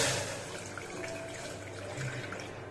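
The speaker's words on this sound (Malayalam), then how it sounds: "കുക്കറിലേക്ക് ഈ ഒരു ഗ്ലാസ്സില് കറക്റ്റ് ഒരു ഗ്ലാസ് വെള്ളം," A glass of water poured into a pressure cooker while making vegetable fried rice: a soft, continuous splashing gush lasting a few seconds, close by and fairly quiet, with no voices.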